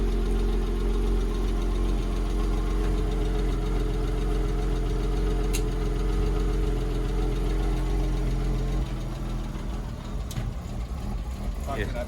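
Porsche Boxster engine running steadily after a cold start, a loud, close, continuous low drone that drops slightly in level toward the end, with faint clicks and a voice nearby.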